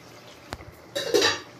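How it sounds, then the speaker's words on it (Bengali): The lid comes off a pan of katla fish curry cooking over a medium flame. A sharp metallic clink sounds first, then a brief rush of sizzling and steam as the pan opens. "তো ঢাকনাটা এবার খুলে দেখবো"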